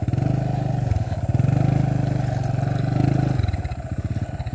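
Motorcycle engine running steadily close by with a low, pulsing rumble and slight clatter, holding an even drone throughout with brief swells in revving.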